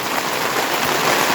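Rain falling steadily at a small home farm, a dense even hiss of drops that stays loud and unbroken throughout the short stretch.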